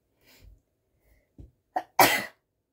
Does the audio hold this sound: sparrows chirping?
no